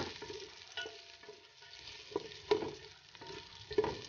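Ginger and garlic sizzle in hot oil during stir-frying for balbacua, a Filipino beef-skin stew, giving a soft steady frying hiss with a few sharper stirring clatters of a utensil against the pan.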